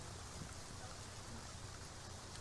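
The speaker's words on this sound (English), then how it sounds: "Where's the rain coming from?" Steady rain falling as a dense, even hiss with no distinct drops, moderately faint and unbroken throughout.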